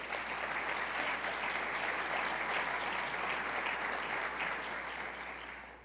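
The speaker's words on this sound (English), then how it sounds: "Can we give them all a round of applause?" Indoor audience applause at a church gala event honoring performers including a chorus, a dense, steady sustained clapping from many people, loud and even throughout, tapering slightly at the end.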